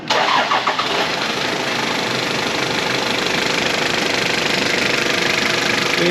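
A diesel engine in a Toyota Land Cruiser Prado 90 cranks after glow plug warm-up and catches, then settles into a steady, loud rattling idle that carries on without letup.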